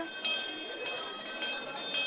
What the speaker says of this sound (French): quand l'heure de la cloche sonne